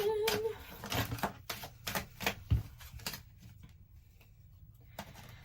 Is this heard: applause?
no